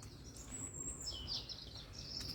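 Faint birds chirping and singing in the distance over a low outdoor rumble in a park in Blundellsands, Liverpool, brief high tweets drifting in and out.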